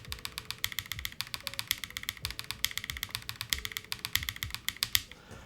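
Rapid, steady keystrokes on a Gem80 mechanical keyboard, with the 1 and 2 keys under test, clack close and crisp in a continuous run.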